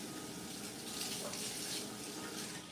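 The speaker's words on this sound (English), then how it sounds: "make sure you are washing everything off" Tap water runs steadily into a kitchen sink as raw meat is rinsed by hand, a continuous hissing splash close by with no talk over it.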